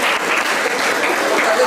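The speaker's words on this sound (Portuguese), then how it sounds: "uma salva de palmas para ele" A crowd gives a round of applause at a closing event of a community association in Faro, with dense, loud clapping that holds steady throughout and crowd voices blended into it.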